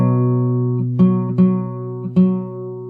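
A fingerstyle acoustic guitar slowly plays the closing phrase of a song, sustained ringing notes with a few distinct plucked attacks spaced about half a second apart, close and clear with no talk.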